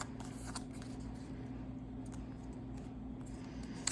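Paper folded back and forth by hand to make faux vintage junk journal tickets, a steady soft crinkling and rustling close to the microphone over a low hum, with a sharper crackle at the end.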